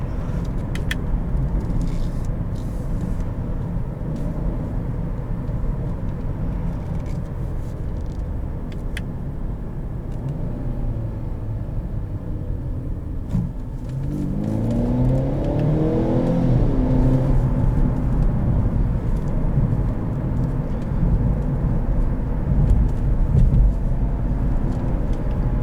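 A 2016 Ford Fusion SE drives along, its engine and road noise a steady low hum heard from inside the cabin, then rising as it accelerates with a climbing whine of revs; no one speaks.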